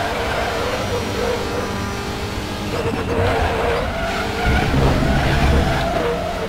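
Race car in RaceRoom, a WTCR touring car at Hungaroring, braking hard with tires skidding and squealing over a steady engine drone, loud and continuous, with a voice talking over it.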